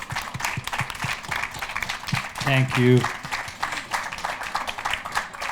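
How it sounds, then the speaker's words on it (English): An audience at a festival panel discussion applauds in a burst of clapping that swells briefly near the middle, mixed with crowd noise while a person speaks over it. "So let's give a round of applause to our panel."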